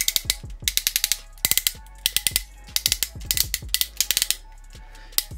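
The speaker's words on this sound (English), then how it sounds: "Hips are on really nice ratchets." Ratchet joints on a Transformers Studio Series Jetfire figure click in rapid bursts, crisp plastic ticks up close, grouped in quick runs with short pauses between them.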